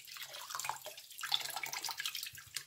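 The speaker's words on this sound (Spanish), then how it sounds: "Le vamos a echar un buen chorro de vinagre." White vinegar poured in a steady splashing stream onto turkey necks sitting in water, a close liquid gush that rises and falls for a few seconds with no talk.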